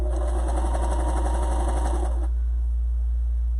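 Sewing machine stitching a fabric face mask and its elastic, a fast steady mechanical rattle running loud and close for about two seconds, then stopping abruptly into low room hum.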